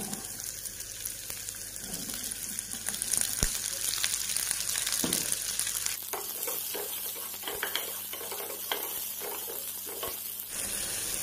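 Onions and browned garlic fry in a pan for a sausage dish with a continuous close sizzle, joined later by repeated sharp stirring clicks and scrapes of a utensil against the pan.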